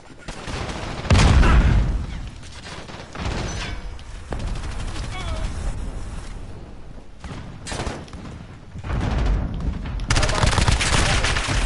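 A cruise missile strike lands during a Call of Duty: Modern Warfare Ground War match, with heavy, loud booming blasts near the start and again at the end, and rumbling gunfire and battle noise in between.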